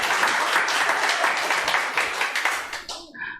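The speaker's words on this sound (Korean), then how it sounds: "다 박수 치세요" Church congregation applauding during a Sunday afternoon service, a dense, steady wash of many hands clapping that carries on for about three seconds, then breaks off into a brief tail of voices.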